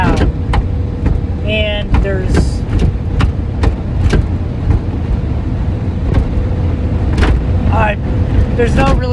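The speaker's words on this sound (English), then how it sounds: "there is a hole in the roof of my truck, and the wind catches it and basically pops the roof of the truck up and down" A damaged truck roof with a hole in it is popped up and down by wind while driving, giving repeated sharp thumps at an irregular rhythm over steady road and engine rumble, with someone talking through it.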